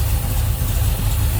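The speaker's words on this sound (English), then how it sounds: "Nice, smooth running engine." A 1966 Chevrolet Chevelle's 454 V8 with headers, a Holley 750 carburetor, HEI ignition and a mild cam idles steadily up close, a smooth low rumble that stays even throughout with no talk over it.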